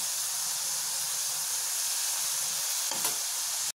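Potato French fries deep-frying in hot oil in a home kitchen, a steady, loud sizzling hiss that holds throughout, with a brief clatter near the end.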